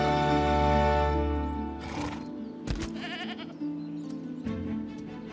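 Goats bleating in the wild, sounding like nanny goats in a scuffle over herd rank, with several strained bleats over a steady low background hum.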